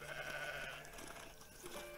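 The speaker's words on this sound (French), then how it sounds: "Ce berger nous invite à faire une pause avec ses moutons." Sheep bleating in a pasture with a shepherd's flock, a couple of sustained wavering bleats close by over a steady outdoor background, no talking.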